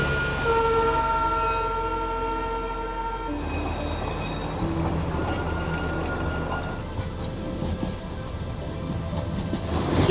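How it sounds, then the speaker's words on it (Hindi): A Darjeeling toy train runs through the Himalayan hills. A long, loud steam-engine whistle blows steadily for about three seconds, then gives way to rumbling wheels and rattling carriages that continue for the rest of the clip. "तब इंजन की सीटी पहाड़ों में गूंज उठती है"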